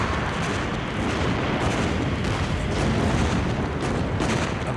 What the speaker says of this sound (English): A massive naval bombardment of the German defensive positions begins.